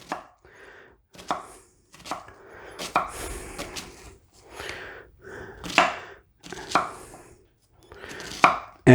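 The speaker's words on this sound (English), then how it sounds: "I just slice fine little slices there." A kitchen knife slicing onion finely on a cutting board, a series of about ten crisp, close chops in an uneven rhythm with brief pauses between them, no voices.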